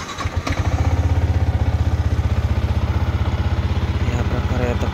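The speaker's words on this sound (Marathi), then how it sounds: "आता मला बाईकला कोल्ड स्टार्ट करायचं आहे, सो आता मी ते करतो." A motorcycle cold-starts and settles into a loud, steady idle with a fast, even low thump, close by, with no talking.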